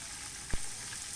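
Steady, close sizzling of Isan sausages frying in a pan, a constant hiss with one soft thump partway through.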